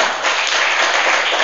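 A church congregation claps for God in a worship service, a steady dense wash of many hands applauding together, loud and close, with no distinct voices over it.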